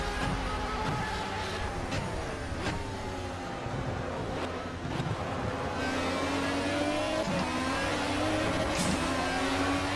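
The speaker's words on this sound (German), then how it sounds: "der Toyota hat eine Beschleunigung, Alter" A Toyota LMP1 race car in Project Cars accelerates hard on the Hockenheim Classic circuit, its engine holding a steady high drone with rising pitch sweeps as it climbs through gears, loud and continuous with no talking.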